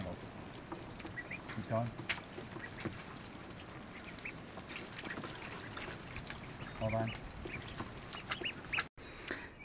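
Ducks being herded out onto grass, giving a few loud quacks over a busy outdoor rustle while people talk nearby.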